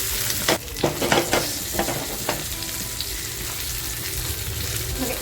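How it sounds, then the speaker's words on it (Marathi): Spiced pomfret wrapped in banana leaf fries in a pan, soft sizzling throughout with several sharp scraping stirs near the start, then a steadier frying hiss. "हलवून घेते म्हणजे खाली चिकटणार नाही"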